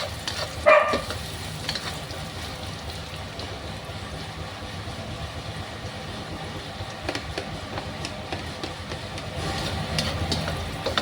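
Sliced ginger frying in a pan while cooking Filipino dinuguan with coconut milk, giving a steady close sizzle with scattered crackles and a sharp clatter near the start, no voices.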